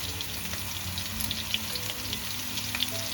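Garlic, onions and curry leaves fry in a hot pan with a dense, steady sizzle and scattered crackling pops, heard alone without talk.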